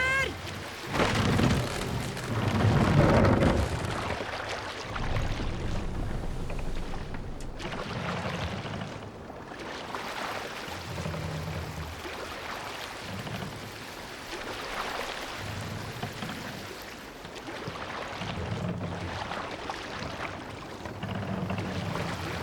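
A Viking longship rowed without its sail in Assassin's Creed Valhalla, with rhythmic oar strokes and water splashing over rain-like ambience and low rumbles, steady throughout.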